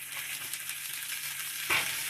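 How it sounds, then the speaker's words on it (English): Ham steaks sizzle and fry on a hot Ozark Trail griddle, a steady crackling hiss close by with a brief louder spatter near the end, no voices. "You can hear it sizzling, so it's hot."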